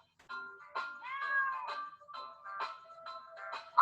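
A cat meows repeatedly in a short series of clear, close, tonal calls, the last one rising sharply in loudness at the end, with no talking over it.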